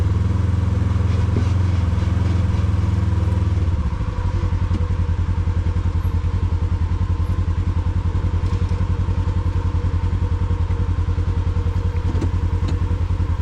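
An off-road vehicle grinds over a bumpy rocky stretch of the Rice Peak Trail, its engine droning loud and steady with clattering jolts as it shifts down early on.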